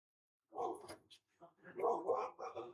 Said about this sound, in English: Friendly dog in the neighborhood.